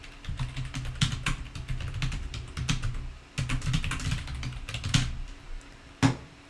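Steady typing on a computer keyboard while entering library search terms, a run of quick close key clicks in bursts with short pauses and one sharper tap near the end, no voices.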